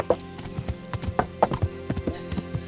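Horse hooves clip-clop in the video game Kingdom Come: Deliverance as a horse is ridden, with close, even hoofbeats repeating steadily throughout.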